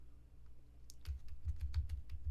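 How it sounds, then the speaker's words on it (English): Arrow keys on a computer keyboard are tapped repeatedly, about eight quick, close, quiet clicks in an even rhythm with no voices. "in order to just move them down, just by hitting that arrow key repeatedly"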